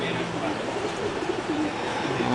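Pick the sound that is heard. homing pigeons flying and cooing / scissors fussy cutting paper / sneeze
homing pigeons flying and cooing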